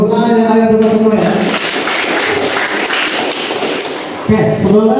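Students in a vocational school classroom break into a dense burst of applause lasting about three seconds, framed by a teacher talking just before and after.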